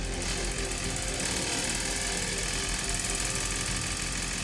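Loud, relentless rapid clattering and buzzing as spinning PC fans strike loose wires on a newly built computer's first power-up, constant and close throughout.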